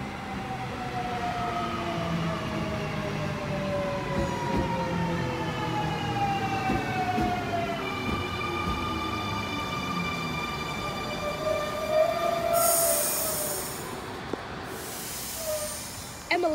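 An M11 electric train pulls out of a Sydney suburban station platform, motors whining and rising in pitch as it accelerates, with a hissing brake release and rumbling wheels fading as it moves off.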